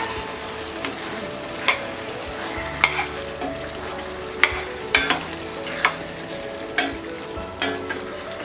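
A spoon stirs potato and green chickpea curry in a pan with fresh green coriander, giving intermittent scraping knocks over a steady low sizzle, close up and with no talk.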